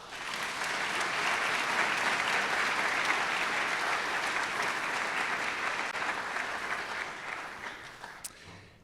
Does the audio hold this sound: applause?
yes